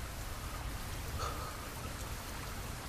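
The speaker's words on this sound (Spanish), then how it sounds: "La lluvia, sin embargo, es fría" Steady cold rain falls in a dense, continuous hiss, close and even throughout, alone with no voices.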